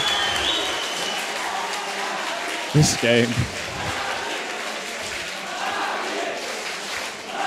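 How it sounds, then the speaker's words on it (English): An esports arena crowd at a CS:GO LAN match on Dust2 roars in a sustained wash of noise, with a caster talking over it and a brief louder burst near the middle. "the roar that the crowd just erupts in as soon as Guardian lands that jump shot"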